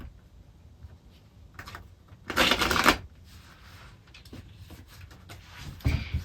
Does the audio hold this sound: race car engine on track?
no